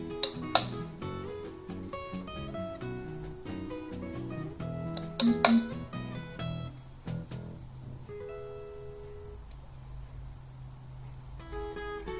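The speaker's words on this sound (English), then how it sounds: "I'm going to transfer the content to ice cream glass" Glass, spoon and dish clinks sound as banana chocolate ice cream is scooped into an ice cream glass, with sharp intermittent taps and scrapes, one louder cluster midway, then a quieter tail.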